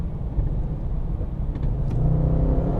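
A Mercedes-AMG estate car engine rumbles steadily and rises slightly in pitch as it accelerates, a continuous low drone close by.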